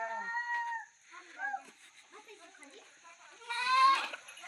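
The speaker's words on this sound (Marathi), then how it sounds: "ह्या साईडला 2 शेळ्या आपल्या" Two goats on a farm give a few short bleats amid nearby talking, with one louder, wavering bleat near the end.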